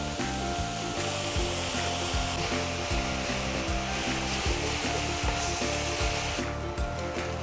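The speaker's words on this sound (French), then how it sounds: "Maintenant, je mets les nouilles." Noodles sizzle and fry steadily in a pan with fish sauce and soy sauce for Vietnamese stir-fried beef noodles, a dense continuous hiss with rhythmic stirring scrapes, close and fairly loud, no voices.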